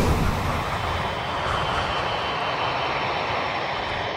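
A damaged Boeing 747 on final approach to Honolulu Airport, flying on two engines, gives a loud, steady jet-engine roar that stays broad and unbroken throughout.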